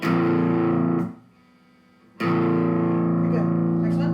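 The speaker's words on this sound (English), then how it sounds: "if I turn it to crunch," An electric guitar through an amp on its crunch distortion setting, playing a loud, sustained, gritty chord that is cut off for about a second and then rings out again.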